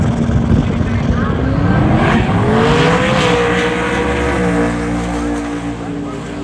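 A Ford Mustang drag car makes a pass at a Sick Summer drag racing event in Cordova, Illinois. Its engine gives a loud, continuous roar with a rising tone, then eases slightly as the run ends.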